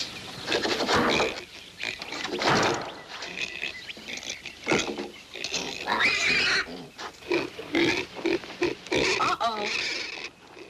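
Piglets grunt and squeal in rapid, overlapping bursts, fairly close and busy throughout, with a few sharper high squeals among the snorts.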